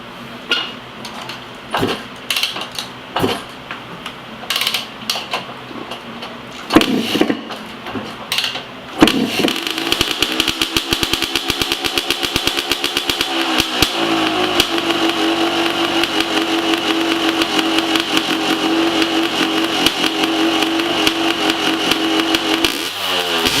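A Yamaha YZ250 dirt bike engine with an FMF Fatty pipe and Shorty silencer is kicked over a few times, then fires up and runs loud and steady with a rapid, rattling two-stroke idle.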